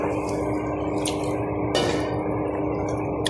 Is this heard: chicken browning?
no